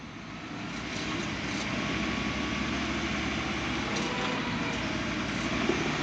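Pickup truck engine, likely a Ford F-150 or F-250, droning steadily and loudly as it drags another stuck truck through snow and mud during an off-road recovery, a continuous near roar with no talk.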